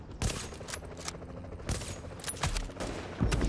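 Gunfire in Tom Clancy's The Division, in the Dark Zone: loud, rapid bursts of shots with sharp repeated cracks and booming impacts, dense and close, with no voices over it.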